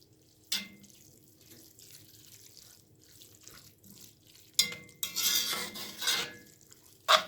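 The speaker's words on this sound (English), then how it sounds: "Going to keep stirring this as it's already browning for me." Browning beef for vegetable beef soup being stirred in a pot: scraping utensil clinks and scrapes, sparse at first, then busier stirring and clattering near the end, fairly close with no talking.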